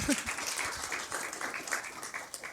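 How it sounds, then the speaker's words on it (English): An audience claps briefly at a founders feature event with Bennett Maxwell of Dirty Dough, a short dense patter of hands that runs steadily for a couple of seconds. "let's clap for that"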